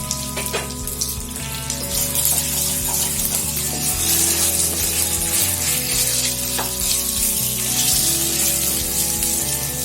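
Cornflour-marinated chicken fries in hot oil for restaurant-style egg chicken chow mein, giving a continuous bright sizzle with crackling pops that stays steady throughout, with no voices.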